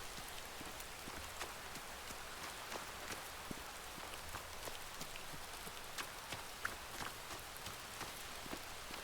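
Rain falls in the Rising World video game, a soft, steady patter of drops on surfaces with scattered sharper ticks, fairly quiet and continuous with no voices.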